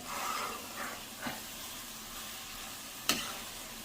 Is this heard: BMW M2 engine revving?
no